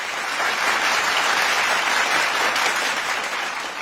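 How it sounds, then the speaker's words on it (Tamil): Continuous, loud audience applause for students who passed their exams, a thick uniform roar of many hands clapping close by with no pause for the whole few seconds. "அவர்களுக்கு நல்ல கைத்தட்டல கொடுக்கலாம் நம்ம எல்லாருமே சேர்ந்து நினைக்கிறேன்"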